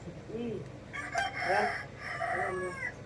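A rooster crows loudly at close range in a long drawn-out call, with softer clucking and squawks around it.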